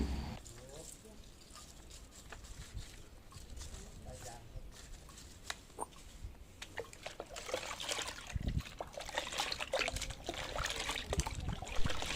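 Watering potted vegetable plants with a homemade liquid fertilizer mixture of eggs and MSG, heard as a soft trickle and pour of liquid that grows steadier toward the end, with a voice talking at times.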